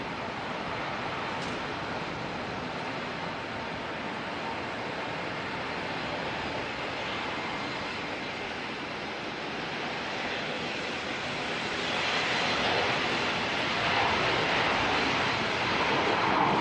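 A Qantas airliner departing Auckland Airport for JFK, a steady broad jet engine roar at a distance that swells louder toward the end.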